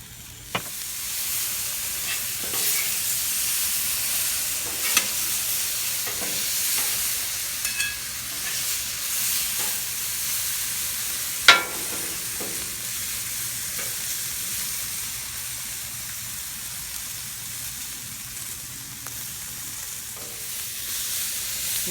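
Bok choy being mixed into lo mein on a Blackstone griddle, giving a steady close sizzle and frying hiss with scattered scraping stir clicks throughout, no talking.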